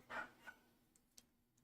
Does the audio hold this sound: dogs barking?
yes